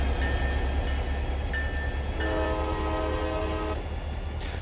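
Big Boy steam locomotive in the video game Train Fever, a steady rumbling rail run with sustained horn-like tones sounding and shifting over it, loud and continuous with no talk.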